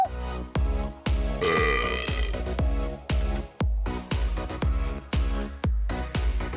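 Someone burps after eating chicken, a long run of deep, loud gurgling belches, more than a dozen in close sequence, close to the mic and alone without talk.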